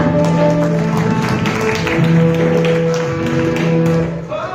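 Loud, sustained applause from an audience at a Republic Day program, steady clapping filling the space under a continuous musical backing, tapering slightly near the end.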